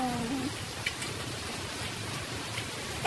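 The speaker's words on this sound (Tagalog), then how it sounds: "Tingnan nyo yung ulan, malakas." Heavy rain falls steadily outdoors in Japan beside a small garden of potted flowers, a dense even hiss that continues throughout, with a brief voice at the start and end.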